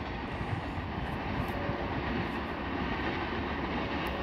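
A CN freight train led by SD40-2W and SD70M-2 locomotives rumbles past as a steady, loud, broadband roar that fills the whole stretch without letup.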